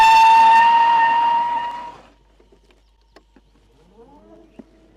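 An Ather Rizta electric scooter on MRF tyres brakes hard from 50 km/h, producing a loud, sustained tonal tyre squeal that fades out after about two seconds, leaving quiet background with faint bird chirps.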